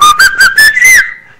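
A loud, close whistle of a lost soul from Venezuelan legend: four short rising whistled notes followed by one longer sustained note that trails off into silence.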